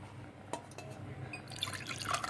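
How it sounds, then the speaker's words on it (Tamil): Leftover mutton soup water is poured into a pot of seeraga samba mutton biryani cooked Dindigul Thalappakatti style, a soft pouring and splashing that grows fuller toward the end. "மீதி அந்த சூப்பு தண்ணி இருக்கும் இல்லையா, அதை ஊற்றிக்கலாம்"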